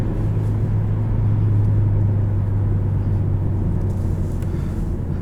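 A 2017 Chevrolet Cruze LS with a manual gearbox pulling under power, a steady low engine drone with a strong, constant tone heard from inside the cabin, droning on alone without talk.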